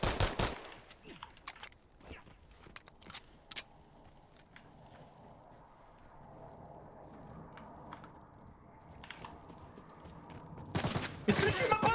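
Bursts of gunfire in a shooter video game aimed at the player, rapid automatic volleys crackling intermittently over keyboard-like clatter, with a louder dense burst near the end.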